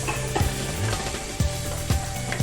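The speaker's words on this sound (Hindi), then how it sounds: "ये 1 चम्मच मैंने सूखा धनिया लिया है पिसा हुआ, वो डालेंगे और इसकी अच्छी तरह से भुनाई करेंगे।" Ground coriander frying in masala, with a dense, constant sizzle close up and periodic thumps and scrapes of stirring at roughly one-second intervals.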